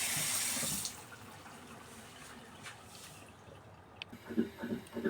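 Tap water runs hard over boiled red dried mushrooms being rinsed for a hairy gourd soup, a loud gush for the first second that drops to a faint trickle before soft kitchen clatter near the end.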